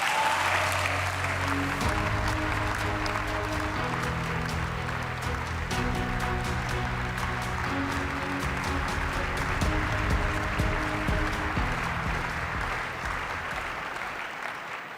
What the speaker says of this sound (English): let's welcome with a big round of applause